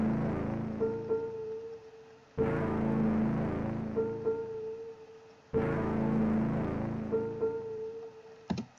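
A low synth key is layered under a melody with a slight echo, heard as repeating loud phrases with a steady high tone running through and no voices.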